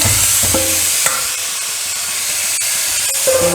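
Chicken, half a kilo, being stirred into frying masala in a pan for a Nadan chicken curry, with a steady close sizzle and hiss broken by scraping spoon strokes.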